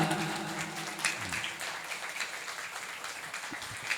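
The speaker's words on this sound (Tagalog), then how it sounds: "Palakpakan po natin ang Panginoon." Congregation clapping at a Sunday worship service, a steady spread of hand claps that fades into a softer patter, moderately distant with room echo.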